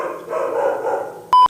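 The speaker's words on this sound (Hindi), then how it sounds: "आ गए कुत्ते भाई साहब वीडियो देखने," A dog lets out one sharp, loud bark close by, cutting through a low, steady background murmur near the end.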